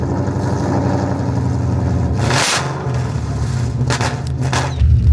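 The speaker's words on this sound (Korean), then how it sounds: "남자들은 왜 시끄러운 배기음을 좋아할까요?" A loud 420-horsepower Ford Mustang GT exhaust rumbles and burbles steadily, with a couple of sharp revving bursts near the middle and end.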